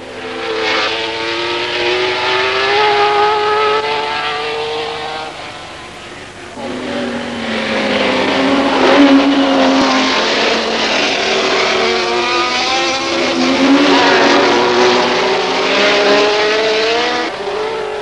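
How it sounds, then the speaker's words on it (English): 1971 Group 5 race cars, including a Gulf Porsche and a prototype Ferrari, roar past on a twisting circuit at the Brands Hatch 1000km, engines rising and falling as they pass under continuous commentary. "Big Group 5 cars were proving to be a handful on this twisting circuit"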